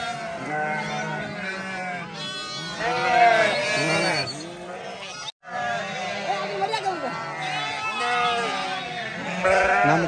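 A flock of sheep and lambs bleats loudly and continuously, many overlapping calls close by with a brief gap midway.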